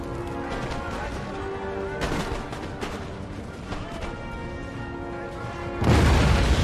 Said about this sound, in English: finally the canister is firing.